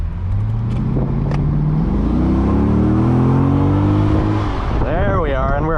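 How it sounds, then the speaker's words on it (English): A 2007-2013 Chevrolet Corvette C6 convertible with an automatic gearbox and a naturally aspirated V8 accelerates hard in sport mode. The loud engine note climbs steadily in pitch, then an upshift cuts in near the end, heard from inside the car. "It's a naturally aspirated V8, so it has a punch and kick really all through the rev range."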